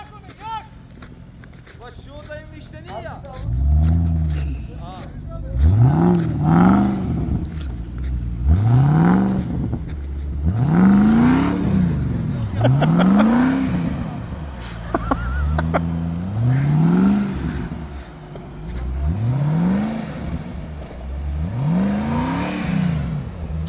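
A VW Amarok V6, Jeep 4.7 and Mitsubishi L200 pickups crawl off-road, one engine revving in repeated rising surges over a steady low rumble, with people talking throughout.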